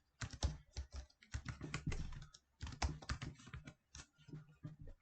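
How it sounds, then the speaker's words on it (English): Rapid bursts of computer keyboard typing, close and fairly loud, clattering in uneven runs with a short pause midway. "I'm just going to type"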